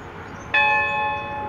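A single bright bell ding rings out clearly and sustains, its shimmering tone slowly fading over a second.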